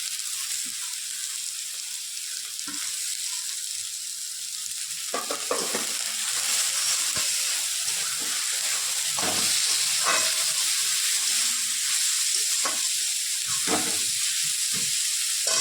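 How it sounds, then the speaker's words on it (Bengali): Shredded cabbage and vegetables sizzle and fry in a pan for veg chow mein, a constant hiss broken by scraping and clattering as they're stirred around, close up and fairly loud. "এটাকে এখন একটু ভেজে নিই"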